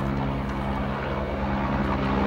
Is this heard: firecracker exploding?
no